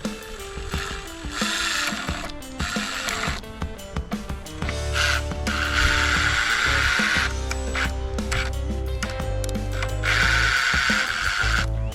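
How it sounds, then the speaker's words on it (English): Screws driven through framing into plywood with a power driver, heard as close, loud whirring and ratcheting bursts, with two longer sustained drives later on and clicks and clatter in between. "we're gonna go ahead and get 2 screws started from here going into the plywood."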